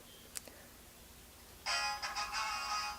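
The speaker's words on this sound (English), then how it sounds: "There's the text message." A phone's text message alert for ESPN sports updates sounds after a short click, a bright electronic tone pattern of about a second and a half, close and fairly loud with no talk.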